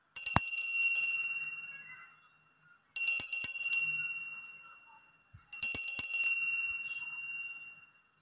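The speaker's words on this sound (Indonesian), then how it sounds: "kita akan melanjutkan dengan lonceng berbunyi" A bell rings three times, each bright ding evenly spaced and left to fade slowly, with no talking between strikes.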